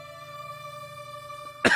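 A man gives a single short, sharp cough near the end, sudden and close, following a steady tonal background hum.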